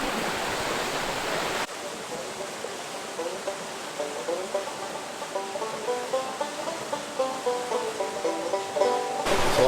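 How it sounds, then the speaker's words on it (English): Spring water rushes out at Alley Spring along the Ozark National Scenic Riverways, a steady, broad, nearby roar of flowing water that holds evenly throughout. "Alley Spring, running. Everything's pumping out some water."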